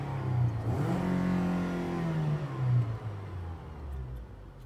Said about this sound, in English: Now the car's running.